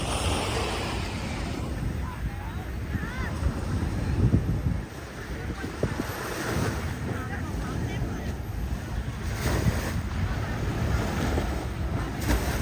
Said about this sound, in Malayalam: കടലിൽ നിറച്ചു സ്പീഡ് ബോട്ടുകളല്ലേ